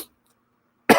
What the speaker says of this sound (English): I don't know if it's cough or sneeze.